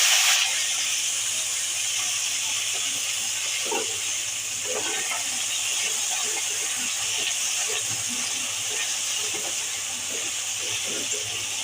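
Shrimp cooking with raw pumpkin, eggplant and radish in a hot pan for a sour Bengali dish, giving a steady loud hiss and sizzle throughout with scattered small pops and crackles.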